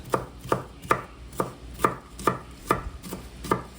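Knife chopping onions on a cutting board for a taco salad, about nine steady, evenly spaced chops close by, with no talking.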